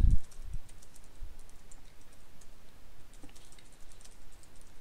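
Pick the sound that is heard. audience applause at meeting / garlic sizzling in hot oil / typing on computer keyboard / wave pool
typing on computer keyboard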